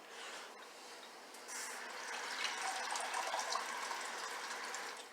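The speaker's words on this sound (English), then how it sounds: "Put water in my pan." Tap water runs steadily into a pan for cooking ramen, a continuous splashing hiss that grows fuller after a moment as the pan fills, heard up close with no talking.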